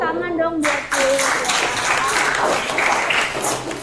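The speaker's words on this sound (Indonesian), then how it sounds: "Tepuk tangan dong buat Julia" A classroom of students breaks into applause for a classmate named Julia, with lively clapping that starts after a brief spoken line and carries on steadily to the end.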